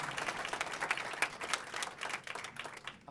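Audience applause during a mayor's swearing-in speech in Moreno Valley, a quiet, steady patter of hand claps at some distance for about three seconds, with no talking over it.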